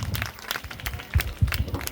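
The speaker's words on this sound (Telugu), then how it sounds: "very good claps" An audience at a church gathering claps in short scattered bursts, fairly faint and uneven, with a few louder thumps and some background noise.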